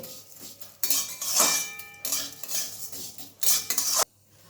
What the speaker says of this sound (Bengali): সিমুইগুলো একটু লালচে করে ভাজতে হবে